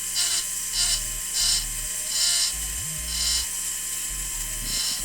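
Krytac Kriss Vector airsoft gearbox with an upgraded motor cycles in repeated short whirring bursts with mechanical ratcheting, close and loud, with pauses between pulls and no talk.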